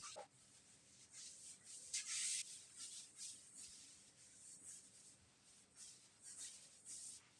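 A duster rubs writing off a classroom board during a maths lesson, giving steady soft scrubbing strokes in repeated bursts, with one louder swipe near the middle, all quiet and close with no talking.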